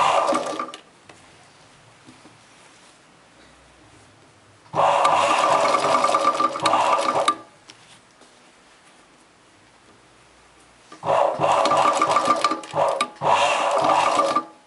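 A sewing machine stitches a chudidar top in bursts of steady whirring, two longer runs separated by quiet pauses, heard close and alone.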